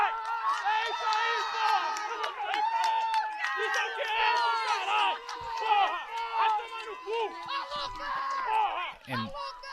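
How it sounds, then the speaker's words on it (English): A crowd at a high school varsity boys' soccer game cheering and shouting after a stoppage-time equalizing goal, a dense, sustained roar of many voices close by. "the crowd is thrilled."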